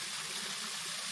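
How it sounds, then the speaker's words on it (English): A small waterfall at a quiet outdoor beauty spot, heard as a steady, even broadband rush of falling water with no break, fairly close and alone with no voices. "this beautiful little spot. The waterfall."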